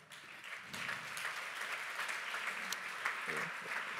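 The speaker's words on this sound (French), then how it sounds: "on les applaudit, bien fort" Applause rises from the audience at the Trophées Logement & Territoires awards for the year's customer service nominee, a steady roomful of clapping with a few louder claps near the middle.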